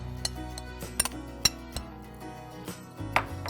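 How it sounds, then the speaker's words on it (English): A spoon scoops tropical fruit salsa onto a plate beside banana mousse, with a series of light, close clinks of metal on dish at irregular intervals. "You can scoop your salsa around."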